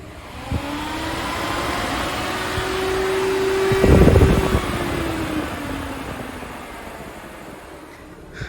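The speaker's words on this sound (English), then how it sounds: "you'll hear the click again, but this time you'll hear the fan going on" A relay clicks, then the radiator cooling fan of a 2001 Mini Cooper R50 whirs up with a steady hum that swells briefly with a burst of rushing air before settling back down.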